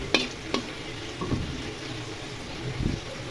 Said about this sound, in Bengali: আমি একটা আমার শুকনো মরিচ ফোড়নে দিব,